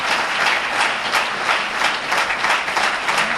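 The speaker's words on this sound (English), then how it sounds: "Let's give our dear brother a well-deserved round of applause" A crowd claps steadily in a dense, sustained round of applause that fills the room without pause.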